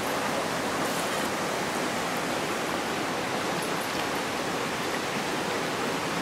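A river on a rural finca flows in a steady, broadband rush of water, constant and fairly close with no voices over it.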